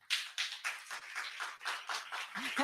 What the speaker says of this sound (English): Please give a round of applause to yourselves.